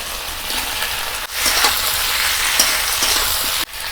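Fried vegetables tumble into a sizzling spice paste in a pan, raising a loud, continuous crackle and hiss. Short breaks appear where the mixture is stirred, then the sizzle resumes.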